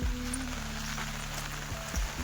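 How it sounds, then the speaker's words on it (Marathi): Rain falls outdoors over a steady low engine-like drone, a dense even patter with no clear breaks and no voices. "आणि चालू झालाय पाऊस परत"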